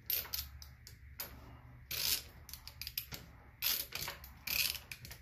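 Ratchet wrench loosening a bolt on a Ferris FW35 mower's Hydro Gear ZT-2800 hydro transmission, giving bursts of rapid metallic clicking in several short runs, close up, with low mechanical hum beneath.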